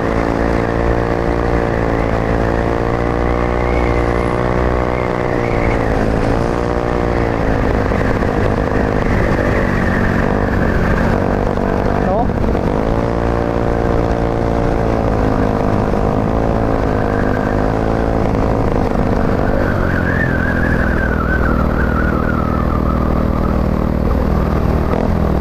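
A Yamaha Mio Soul scooter engine with a throttle-position-sensor fault runs loudly and close, its pitch rising and falling through uneven revs and sputtering backfire-like stumbles for about twenty-five seconds, with no talk.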